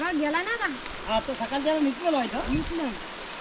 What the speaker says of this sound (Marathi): फिरून येतो तर पाऊस आला